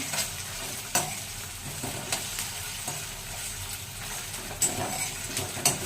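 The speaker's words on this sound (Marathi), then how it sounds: "तो पण चांगला तेलामध्ये परतवून घ्यायचा। छान असा खरपूस भाजला गेला पाहिजे दोघं पण।" Ginger, garlic and green chili masala paste fries in oil in a pan, giving a steady close sizzle broken by several sharp scrapes and clacks of stirring.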